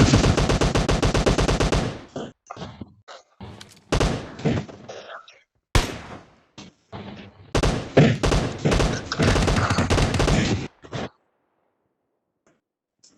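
Gunfire from the battle-royale video game PUBG: bursts of loud, rapid automatic weapon fire that dense-pack the opening two seconds, then broken clusters of shots and thuds through the middle before trailing off into silence near the end.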